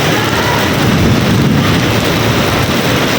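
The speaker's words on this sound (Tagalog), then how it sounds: "Ayun, kumukulog." Heavy rain pours down steadily in a thunderstorm while people are stranded outdoors, a dense broadband roar with a deeper low rumble mixed in that fits thunder, constant and loud throughout with no talk.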